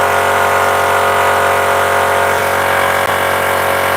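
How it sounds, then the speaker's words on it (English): A noisy air compressor running continuously and loudly in a workshop, a steady dense mechanical roar with a couple of brief knocks, no voices. "I don't know, because this compressor's rather noisy."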